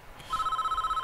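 Telephone in the prison-building game Prison Architect starting to ring, a bright electronic warbling trill that pulses rapidly and evenly after a brief quiet moment.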